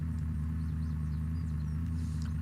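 A car engine idles in the survival game Unturned, a steady low rumble with a constant hum that stays even and continuous, with no talking over it.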